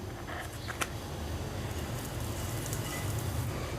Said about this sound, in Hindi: तो इसको हम थोड़ा सा फ्राई कर लेते हैं।